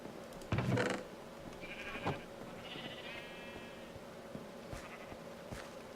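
Electronic-sounding sheep bleats from a Minecraft sheep pen come in short bursts, a couple of separate calls with a thin, repetitive quality, over a soft ambient hum.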